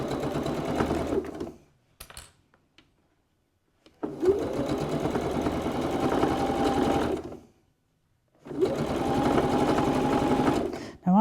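A sewing machine stitches the seam of a cosmetic bag in steady bursts, running for a couple of seconds, pausing, then running again for long stretches, close and fairly loud.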